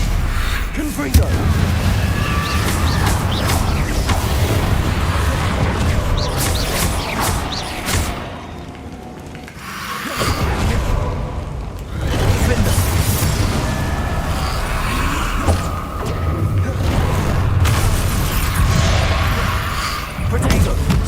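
Repeated fiery blasts and booming impacts of the Confringo explosion spell in the Hogwarts Legacy video game, loud and continuous over a dense, busy combat soundscape with brief quieter gaps.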